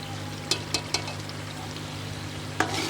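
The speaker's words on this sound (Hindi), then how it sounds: "इसमें अब हम 10 से 11 अदद मिर्चें डाल देंगे, सब्ज़ मिर्चें, और इसको भी 2 से 3 मिनट तक भूनेंगे लो फ्लेम पर।" Ten or so green chilies fry over a low flame in a pan of turai (ridge gourd) curry, giving a soft steady sizzle broken by a few sharp clicks of stirring.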